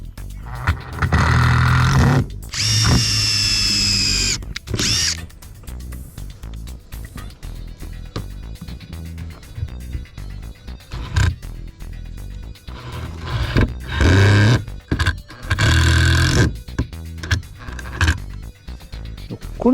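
A power driver sends 65 mm screws into wood in repeated loud whirring bursts, each rising as the screw bites, with quieter gaps between runs and some handling knocks nearby.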